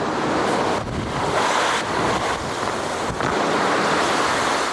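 Loud, rushing surf and gusting wind roar together during Hurricane Wilma near Key West, a continuous stormy wash with pounding waves and buffeting wind noise.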